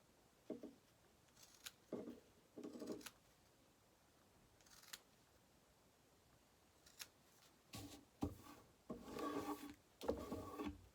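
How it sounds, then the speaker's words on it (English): Scissors snipping away excess canvas fabric at the corners of a small sewing project, a series of quiet, close, irregular cutting crunches separated by brief pauses. "I'm going to just cut off some of that excess."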